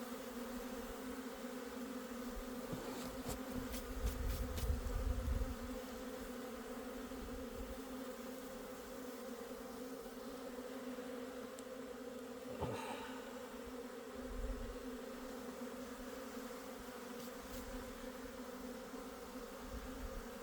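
Steady, low droning buzz of many Asian honeybees swarming close by at an open hive, continuous throughout with a few brief louder passes.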